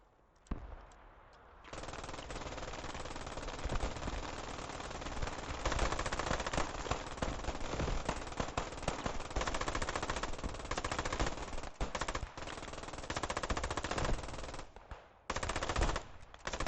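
Rapid, sustained machine gun fire at Utah Beach in the video game Squad 44, loud, close bursts rattling almost continuously with a few brief pauses and a short gap near the end.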